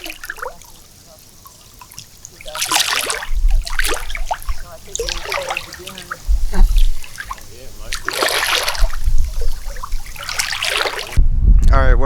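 Water splashes in bursts as people swim in a hot spring in Hawaii's Big Island, several close, bright sloshes and trickles at irregular intervals, with voices heard between and over them.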